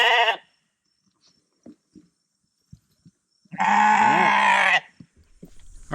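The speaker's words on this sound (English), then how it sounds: "We got a few goats over there, a few sheep over there, a Dobby, he's somewhere over there" On a farm with goats and sheep, a loud nasal bleat cuts off at the start, scattered quiet shuffles follow, then a long strong wavering bleat rings out close by.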